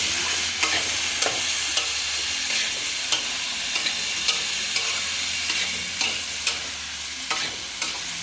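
Bitter gourd sautés in a hot pan, a steady sizzle broken by regular scraping strokes of a spatula stirring roughly every half second, close and clear with no talking.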